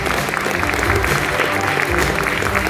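Dense, loud applause from an audience honoring a woman at an awards ceremony, continuous clapping throughout with a few voices mixed in.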